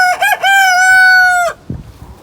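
A young rooster of unknown breed crows once, a loud, close cock-a-doodle-doo with a wavering start and a long held note, followed by a few faint clucks.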